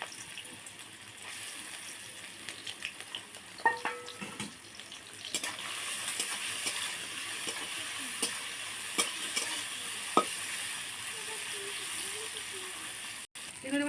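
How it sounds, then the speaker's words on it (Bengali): Shrimp fry in hot oil in a kadai, a steady sizzling hiss close by, punctuated by occasional scrapes and taps of a spatula stirring, with faint voices now and then. "চিংড়ি মাছগুলো ভেজে নিচ্ছি।"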